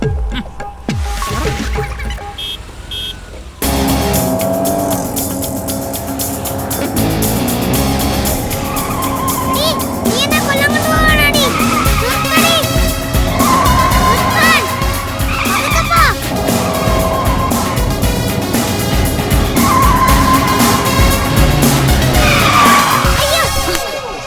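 A car brakes hard, tires screeching and skidding loudly over an engine roar, the squeal wavering and sustained for many seconds after an abrupt start.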